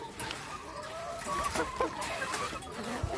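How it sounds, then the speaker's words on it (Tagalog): Chickens clucking and murmuring close by as they eat scattered feed, with soft scratching and pecking noises over a low outdoor background. "para mas ganado yung ating mga manok kumain"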